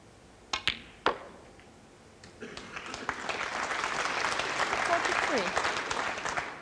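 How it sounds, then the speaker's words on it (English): A snooker audience applauds a match-winning shot at the 2016 Champions of Champions, Mark Selby against Liang Wenbo: a few sharp cue and ball knocks, then clapping swells into a sustained, steady round. "The applause recognises that that was the winning shot"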